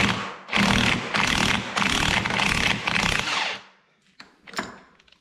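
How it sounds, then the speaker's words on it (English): An impact wrench hammers loudly at the 5th gear nut of a Volkswagen 02J transmission in several rapid bursts over about three seconds, then stops, leaving a few faint clicks and taps. "I'm going to stick my impact on here and hopefully the gear will come off."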